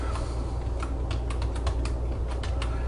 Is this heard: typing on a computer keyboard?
yes